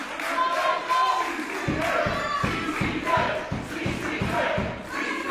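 A wrestling crowd at an IPW/NOAH junior heavyweight match cheers and chants in rhythmic unison, punctuated by regular stamping or clapping thuds in a steady beat.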